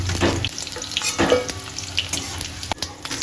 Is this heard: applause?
no